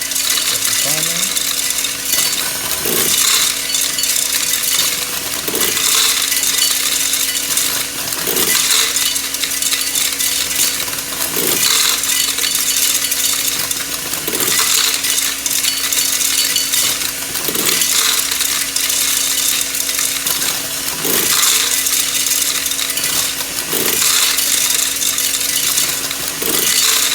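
A Cremer CF1220 counting machine with a memory-flaps unit runs with its conveyor: a loud, continuous mechanical clatter and rattle with periodic rhythmic knocks every few seconds.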